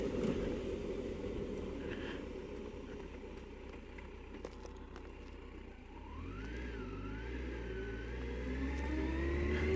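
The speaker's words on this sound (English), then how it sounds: "So I'm just rolling off the throttle, bike is slowing down, and now I'm starting to blend in some brakes." A motorcycle engine drops in revs as the rider rolls off the throttle on approach to a junction, a steady mid-pitched drone heard from on the bike with a whirring tone that dips and then rises.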